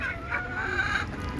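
Desi chickens kept in an enclosure cluck and call close by, with a sustained hen vocalization over a low background hum.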